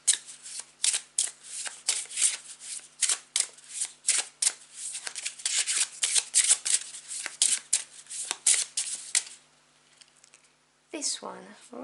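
Tarot cards are riffled and shuffled close up in quick papery bursts, each flick crisp and fairly loud, going on for several seconds before a pause and a final rustle.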